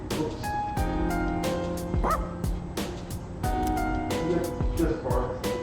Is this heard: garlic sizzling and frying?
no